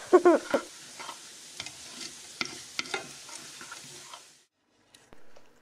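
Garlic sizzling in a pan until golden brown for a Batangas lomi, stirred with a utensil that scrapes and taps in irregular strokes before the frying fades to near silence.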